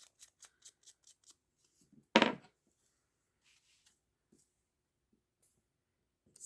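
Scissors snipping paper scraps for a collage, a run of quick crisp snips followed by a louder rustling cut, then a few faint sparse clicks in near silence, close up.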